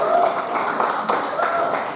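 Audience clapping at an inauguration ceremony for Al Khairiyah organizations, a dense burst of applause from a crowd, fairly loud and continuous throughout.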